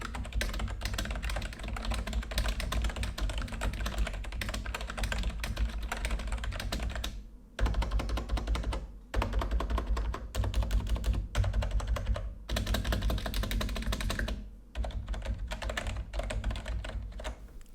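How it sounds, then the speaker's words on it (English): Rapid typing on an Adesso Easy Touch 630 membrane keyboard, a dense, steady patter of soft keystrokes broken by a few brief pauses, close and continuous. "Here's a quick sound test of the Adesso Easy Touch 630."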